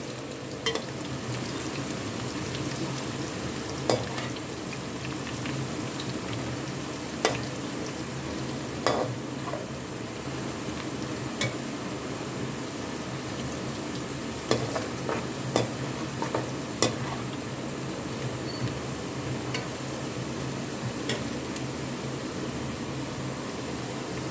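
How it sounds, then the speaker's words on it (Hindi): Ingredients for beef yakhni pulao frying and being stirred in a pot, a steady soft sizzle throughout with scattered light scraping clicks from the spoon. "और इसको अच्छी तरह हिलाएंगे। अच्छी तरह भूनेंगे।"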